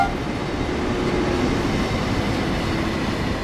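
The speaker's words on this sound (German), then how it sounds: "da der Zug nämlich jetzt abfährt" DHL Intercity mail train pulling out of Lohr station in Train Sim World 4, a steady rumbling rail noise with faint wheel squeal, continuous and fairly close throughout.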